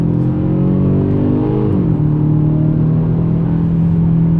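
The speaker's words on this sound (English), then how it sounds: "I just wish that the engine sound was a little bit more substantial than what this is" A 2022 Kia Stinger GT-Line with a 2.5-litre turbo four-cylinder engine revs up, its droning note climbing and then dropping back to a steady, loud, close idle hum, with no voices.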